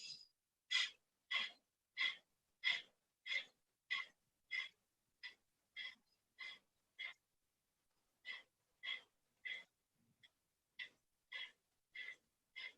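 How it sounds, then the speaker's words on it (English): Forceful, quick exhales during a standing breathing exercise, about twenty sharp breath bursts in a steady rhythm with a short pause midway, close and clear with no talk. "forceful, quick exhales"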